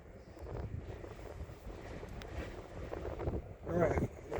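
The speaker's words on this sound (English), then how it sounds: "Some nasty wind." Strong, gusty wind buffets the microphone outdoors near a lake break wall at Sodus Point in winter, a continuous loud rumble that swells toward the end, with a voice exclaiming faintly under it.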